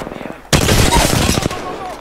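Rapid automatic gunfire from the Apex Legends video game bursts in suddenly and rattles on loudly and continuously, close up, with a voice talking over part of the shooting.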